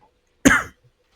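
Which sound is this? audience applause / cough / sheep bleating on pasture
cough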